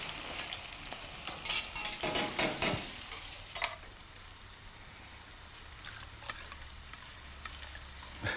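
Chillies frying with salt in a pan until golden and crispy, a busy crackling sizzle with stirring clatter loudest early on, then settling to a quieter steady fizz with occasional pops.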